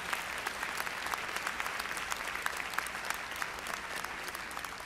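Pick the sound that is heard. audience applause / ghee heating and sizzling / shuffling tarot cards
audience applause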